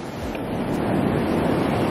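Continuous roar of waves breaking on a beach, close and steady, mixed with wind noise rumbling against the microphone; no one speaks.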